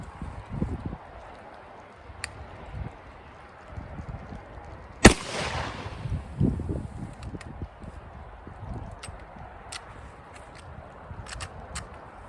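A Remington 11-87 semi-automatic shotgun fires a single loud, sharp blast outdoors, followed by a fading echo and some scattered handling clicks and rustling.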